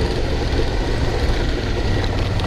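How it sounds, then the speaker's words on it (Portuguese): Suzuki V-Strom DL 650 motorcycle engine pulling steadily under acceleration through a gear change, a dense continuous rumble mixed with wind noise on a riding camera, no speech. "Tô acelerando na passagem de marcha."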